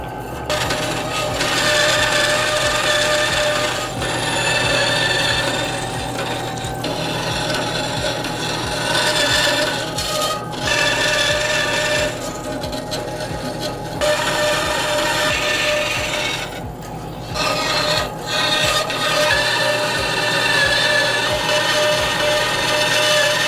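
Continuous harsh rasping of a water-cooled bandsaw blade cutting through metal, loud and steady for a long stretch, with brief pauses and shifts in intensity.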